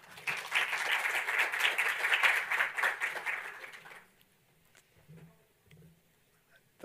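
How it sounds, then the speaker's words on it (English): Warm applause from a conference audience at a Python lightning-talk event, steady dense clapping for about four seconds that then stops abruptly, followed by near silence with faint low murmurs. "let's give Michele a warm round of applause"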